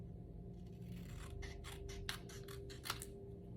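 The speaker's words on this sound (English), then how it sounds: "Oh, I need to trim this just a little bit." Scissors trim a sheet of paper for a half-fold card, giving a run of about eight crisp snips in quick succession, close but fairly quiet over a low background hum.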